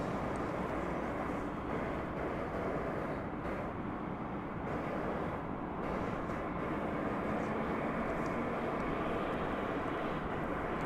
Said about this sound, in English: That plane kind of snuck up on us there.